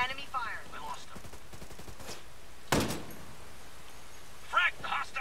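Unsuppressed enemy gunfire in the video game Ghost Recon Breakpoint, during PvP: a single loud, sharp shot bursts out mid-clip, with a couple of fainter cracks and rattles near the end, amid game ambience and voice chatter.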